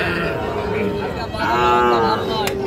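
A Sahiwal cow moos loudly and close, a long drawn-out low call over a murmur of background voices at a cattle market.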